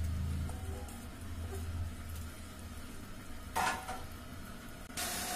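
Water splashed into a hot pan of menthya bath (fenugreek rice) sets off two sharp, loud sizzling bursts over a quiet, low steady frying hiss, with no talk.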